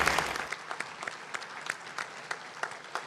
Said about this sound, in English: let's just please give them all a big round of applause